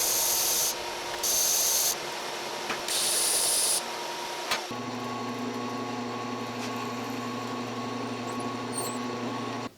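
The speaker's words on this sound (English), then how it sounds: "we cut it out and then take it over to the oscillating belt sander to get the blade" An oscillating belt sander working a phenolic blade, with a few short bursts of grinding contact against the workpiece followed by the machine's steady motor hum running on alone.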